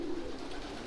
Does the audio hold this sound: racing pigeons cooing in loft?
yes